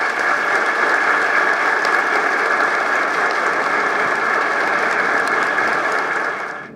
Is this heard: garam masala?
no